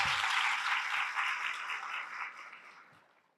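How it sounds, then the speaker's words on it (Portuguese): A live audience claps during a podcast episode recorded in front of a crowd, a burst of applause that starts strong and gradually thins and fades away over a few seconds, with no voices over it. "Palmas pra Vicky, diva."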